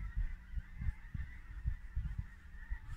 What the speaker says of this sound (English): Now you hear the geese?